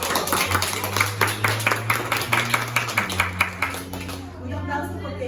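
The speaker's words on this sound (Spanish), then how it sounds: "¿Un aplauso?" A classroom group claps in a quick, fairly even rhythm of distinct hand strikes, fading out toward the end while voices carry on underneath.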